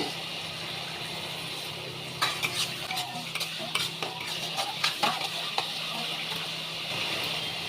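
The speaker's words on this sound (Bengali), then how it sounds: "মশলাটা ভাজা হচ্ছে" Spices sizzling in a hot pan for a vegetarian taro-leaf dish under a steady frying hiss, with scattered scraping and clinking of a spoon stirring against the pan.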